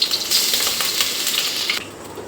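Ginger and garlic frying in hot oil at the start of mutton chukka, a bright close sizzle with light crackles that drops away sharply near the end.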